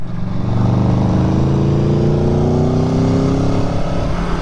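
A 2018 Aprilia Tuono Factory motorcycle accelerating on a canyon road, the engine note climbing steadily in pitch as it pulls through the revs, loud and close with wind noise underneath.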